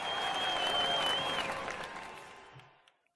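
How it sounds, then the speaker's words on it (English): Brief clapping from a small group, with a thin whistling tone on top, starts at full strength and then fades out within about three seconds. "That's applause for myself."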